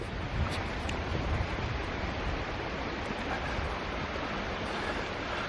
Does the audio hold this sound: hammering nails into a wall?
no